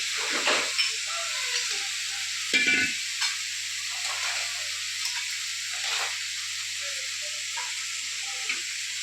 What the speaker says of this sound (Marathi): हिरवी मिरची पण त्यातच परतून घ्यायची